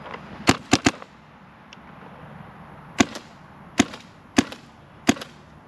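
A DSR+ paintball marker fires through a chronograph in sharp, loud pops: a quick burst of three, then single shots spaced about a second apart, with quiet gaps between.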